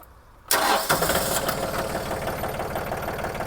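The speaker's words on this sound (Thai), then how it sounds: "เดี๋ยวเราจะมาลองฟังเสียงเครื่องยนต์กันเลยค่ะ" A Yanmar 39 hp tractor engine, a used 2015 model, cranks and catches after a short quiet moment, then settles into a loud, steady, knocking diesel idle close by.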